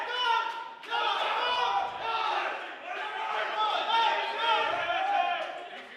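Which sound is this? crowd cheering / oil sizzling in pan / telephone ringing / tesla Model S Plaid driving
crowd cheering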